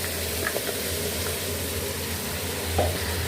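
Pieces of tinda (apple gourd) are added to potatoes already frying in a pan, giving a steady, close sizzle with faint stirring clatter.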